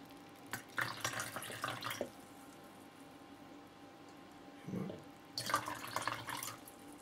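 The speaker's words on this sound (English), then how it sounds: "I think there's maybe a bit too much water in there, so I'll just take a little bit out." Excess water tipped out of a container in short pours, two brief splashing bursts separated by a quiet gap and a faint thud.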